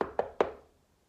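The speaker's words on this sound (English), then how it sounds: "Then along came a wolf who knocked on the door" Three crisp knocks on a door come close and loud in a quick, even rhythm, each fading into a short echo, told during a children's story.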